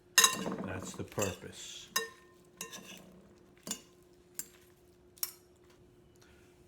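Caesar salad lettuce pieces tossed with oil in a bowl, giving a run of clinks and scrapes from utensils, busy at first and then thinning to a few sharp taps, near and fairly quiet, with a short line of speech.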